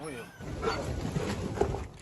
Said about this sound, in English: These dogs are part of a Spanish rescue team involved in a search against the clock.